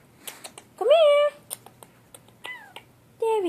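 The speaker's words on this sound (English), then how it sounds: "I have two cats." A house cat gives several short, rising meows at close range, separated by soft clicks and rustles, with a final meow near the end.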